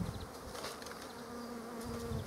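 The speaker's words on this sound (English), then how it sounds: "shake the bees in" Honey bees from a package buzz loudly as they are shaken into a hive, a dense continuous hum with a few bumps and taps underneath.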